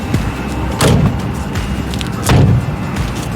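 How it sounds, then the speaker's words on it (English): The reverse-hinged rear door of a wheelchair-accessible Honda Pilot SUV being closed, two dull thumps about a second and a half apart against a steady outdoor hum. "Once it's in, you're able to shut the reverse hinge door."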